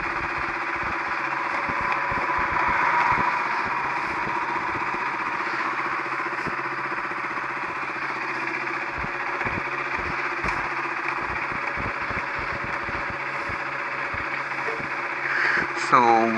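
A KTM RC390 motorcycle engine idling while it warms up, holding a steady, loud, even hum with a fast regular pulse throughout.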